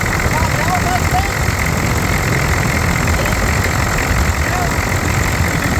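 A Chevy 6.2 IDI diesel engine runs at high idle, a steady loud clattering rumble heard up close throughout, with someone speaking briefly over it.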